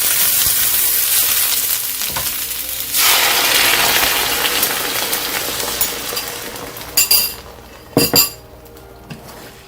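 Sweet and sour sauce hits a hot pan of shrimp and erupts into a loud, steady hiss of sizzling that slowly fades. A few sharp clinks of a utensil against the pan stand out near the end.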